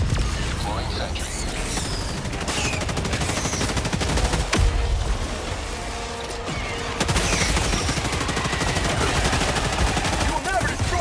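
A deployed sentry turret in the co-op shooter Helldivers 2 fires rapid, rattling automatic bursts with mechanical clatter, loud and close throughout, with other battle noise and some voices mixed in.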